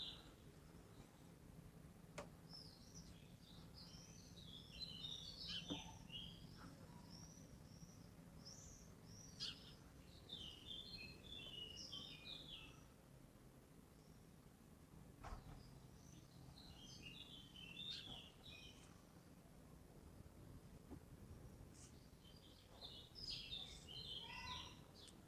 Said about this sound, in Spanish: Me cayó un poco para que escucharan a los pájaros.